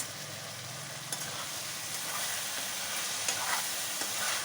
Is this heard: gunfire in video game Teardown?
no